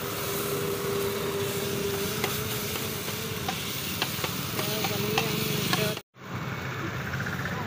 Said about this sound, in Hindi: जीरे का तड़का ला दे